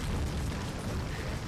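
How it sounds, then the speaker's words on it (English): A bomb going off in The Legend of Zelda: Skyward Sword, heard as a quiet, muffled rumbling burst that fills the whole short moment with low noise. "throw the bomb"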